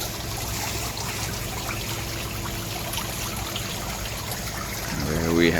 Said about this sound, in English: Right there is the Rapti river flowing down below.